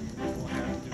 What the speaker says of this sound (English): We're going horseback riding and we're gonna ride around the horses.